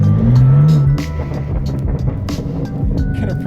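A straight-piped BMW M4 F82 lets out a loud, raw exhaust roar that peaks in the first second with a rising engine note, then settles into a rumbling idle burble close by, with no voices.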